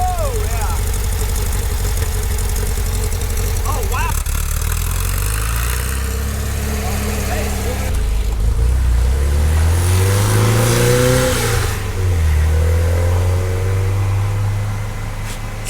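Car engine after a muffler adjustment with the exhaust raised and a hose clamp tightened: a loud, close engine idles and revs repeatedly, pitch rising and falling in swoops, with people talking over it.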